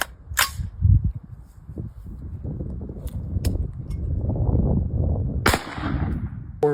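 Rifle fire from 5.56 green tip rounds striking body armor outdoors, heard as a few sharp, loud cracks spaced apart over a low rumble of wind and handling noise.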